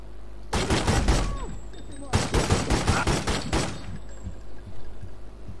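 Bursts of gunfire from The Godfather II on PC crackle in two dense rapid volleys, loud and close, with game sounds and faint talk around them.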